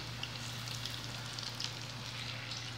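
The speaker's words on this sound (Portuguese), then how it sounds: "Olha, gente, tô fritando aqui." Continuous crackling sizzle of food frying in hot oil, with scattered pops over a low steady hum.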